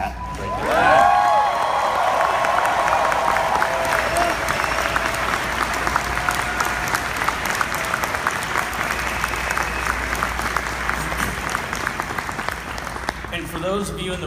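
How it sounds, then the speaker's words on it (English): A big round of applause from an audience at a Team Fusion homecoming event, steady dense clapping lasting over a dozen seconds at high level, with a brief whoop near the start and a voice breaking in at the end. "Can I get a big round of applause for my mom, Pat?"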